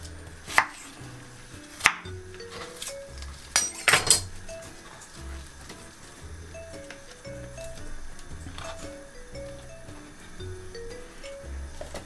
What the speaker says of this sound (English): Gonna cut this in this bit into a quarters or into chunks rather.